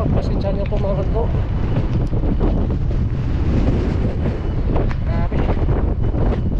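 Heavy wind buffets the microphone in a constant loud rumble, with faint voices and background noise blurred underneath.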